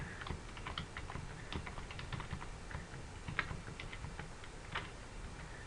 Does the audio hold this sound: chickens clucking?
no